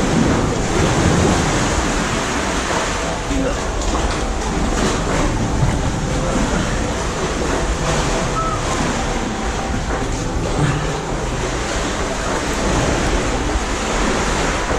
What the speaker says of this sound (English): Here comes the small wave.